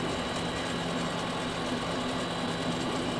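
A mini lathe runs steadily at about 550 RPM, a constant motor drone with a low humming tone and broadband whir, close and unbroken with no talking.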